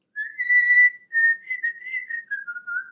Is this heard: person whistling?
yes